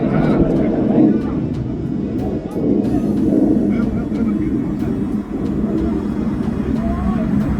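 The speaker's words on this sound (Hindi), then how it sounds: "طيارة حربية، طيارة حربية" A fighter jet flies overhead with a loud, continuous roar and rushing wind noise as people talk excitedly over it.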